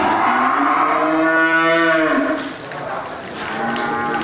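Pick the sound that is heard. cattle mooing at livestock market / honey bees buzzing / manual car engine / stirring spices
cattle mooing at livestock market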